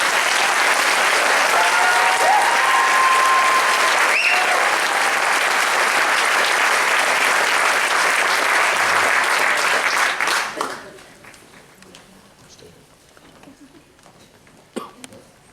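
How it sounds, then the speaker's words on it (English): A graduation ceremony audience applauds, a loud sustained roar of many hands lasting about ten seconds before stopping abruptly, followed by a quiet hall with a cough and a few small sounds. "let's give them another round of applause"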